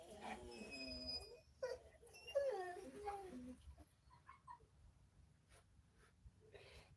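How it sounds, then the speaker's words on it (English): A puppy next door whines in short, high, wavering cries that rise and fall over the first few seconds, then fade to faint scattered yips and soft noises. "They hear the puppy next door."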